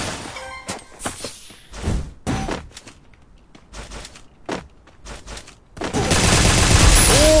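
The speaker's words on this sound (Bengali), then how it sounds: "কি রেট অফ ফায়ার এটা!" Rapid gunfire in a video game bursts out in loud, scattered volleys that end in a dense, sustained barrage.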